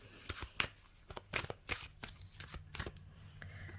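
Oracle cards being shuffled by hand in a quiet room, giving a run of soft papery riffles and flicks with uneven taps and slides, close and fairly faint.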